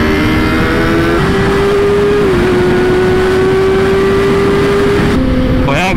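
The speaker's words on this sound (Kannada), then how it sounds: "ಇದಕ್ಕೆ ಕಿರ್ಚಾಡುತ್ತೆ ಗುರು ಗಾಡಿ ಇದು." Kawasaki ZX-10R superbike of about 200 horsepower, its engine held at a loud, steady high-rpm scream with a brief dip, then dropping and rising again at the end, close to the microphone.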